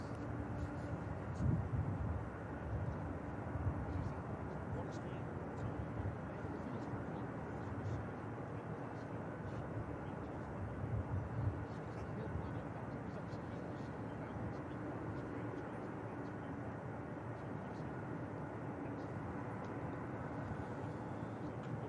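A Boeing 747 taxiing at Manchester Airport gives a steady, distant jet-engine drone that holds evenly throughout, with faint voices now and then.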